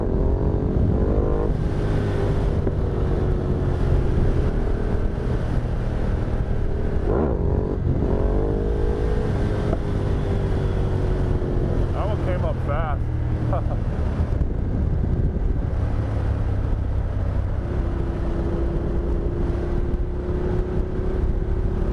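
A Ducati Multistrada motorcycle engine pulling on a dirt test ride, a loud sustained drone rising and falling in pitch with revs under heavy wind rush, with a rider talking over it.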